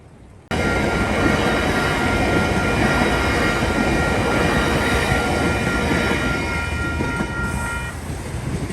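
A train rumbles past close by in New Zealand, a loud continuous roar with rattling wheels and a high metallic squeal, starting abruptly after a quiet moment.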